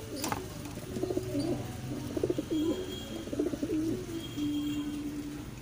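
Pigeons cooing softly inside a loft, with a few low repeated coos and a brief thin chick-like call near the end over steady background noise.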